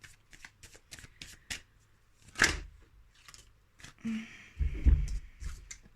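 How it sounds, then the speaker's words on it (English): Tarot cards being shuffled by hand in quick riffling bursts with taps and slaps of the deck, close and fairly soft, with no talk. "I don't even know why I shuffled again."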